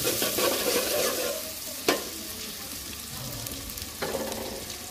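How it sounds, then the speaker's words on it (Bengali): Onions frying in oil for a curry, a continuous close sizzle with stirring, two sharp utensil knocks against the pan, and no voices. "তরকারির জন্য পেঁয়াজ আর তেল দিলাম, এটা ভালো করে ভাজবো।"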